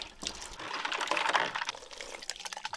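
Watermelon juice pours in a steady stream at an outdoor village party, a continuous close liquid splashing and trickling with no talk over it.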